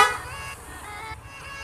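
Boss Evolution aftermarket horn fitted to a Yamaha NMAX scooter gives a loud harmonic blare at the very start, then settles into a lower steady tone over a low rumbling engine.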